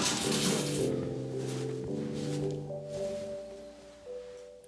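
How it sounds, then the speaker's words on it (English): Running water from a hot shower, a steady rushing hiss that fades somewhat over the seconds, heard close under a sustained low tonal hum with no voices. "Take a hot shower."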